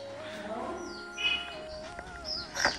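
Pet parrots chirping indoors, short high tweets and whistles scattered over a faint background murmur of voices in a room.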